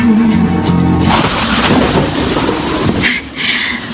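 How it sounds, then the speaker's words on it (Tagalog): Heavy rain pouring steadily with low rumbling booms of thunder, loud and close throughout, with a brief dip near the end. "Lakas ng ulan."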